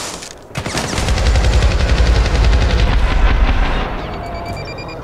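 A grenade blast in the Syndicate shooter game, followed by loud, dense bursts of gunfire that rattle continuously for several seconds and then fade.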